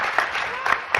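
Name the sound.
audience applause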